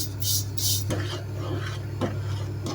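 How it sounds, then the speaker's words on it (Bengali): Lachha semai vermicelli frying in ghee in a pan, with bursts of scraping and stirring clatter over a steady low hum and soft sizzle, close and moderately loud. "ঘিয়ের ভিতরে ভালো করে বাদামি করে"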